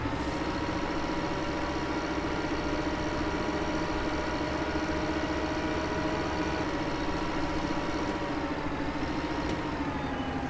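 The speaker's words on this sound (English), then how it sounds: "Shouldn't take too long in this tractor" A tractor engine in Farming Simulator 2015 drones steadily while driving, a constant rumbling hum with layered harmonic whine, unbroken and at an even level throughout.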